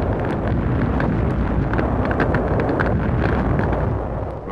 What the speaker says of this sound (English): Our tanks come in range of Jap 77mm guns, which score several hits